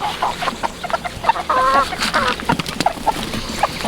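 Several chickens in a confined pen cluck and squawk in short bursts close by, with soft rustling and a brief higher call in the middle.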